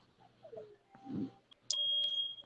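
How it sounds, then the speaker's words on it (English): A smoke or fire alarm sounds in a home, its high electronic tone starting sharply and holding steady after a few faint chirps and a dull thump. "fire alarm going off."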